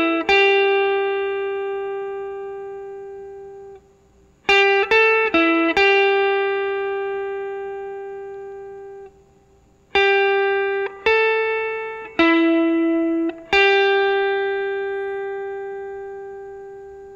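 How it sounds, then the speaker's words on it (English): Electric guitar playing a blues lick, a string of clear bent and sustained single notes with short pauses between phrases, recorded close and alone with no talking. "Today's first lick sounds like this."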